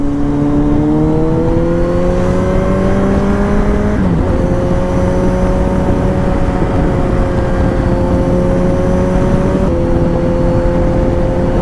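A 2021 Kawasaki Z900 motorcycle's engine and exhaust while riding: a loud, continuous, close drone whose pitch holds steady and shifts twice, as with throttle or gear changes.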